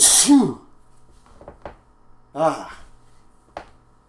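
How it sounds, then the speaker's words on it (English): A man lets out a loud, abrupt sneeze at the very start, followed by quieter sniffs, a throat noise and small bursts of breath in an otherwise quiet indoor room. "about to sneeze here."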